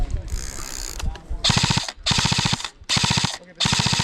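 Airsoft guns firing during a skirmish game, several rapid full-auto bursts close by, each about half a second long and separated by brief pauses, with a faint voice before the first burst.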